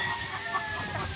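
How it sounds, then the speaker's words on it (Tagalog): Rhode Island Red chickens feeding on rice grains and straw on a farm, clucking steadily and close by, with a faint crow-like call mixed into the flock noise and no talking. "Nag-i-enjoy yung mga manok sa pagkain kasi meron yung mga butil ng palay."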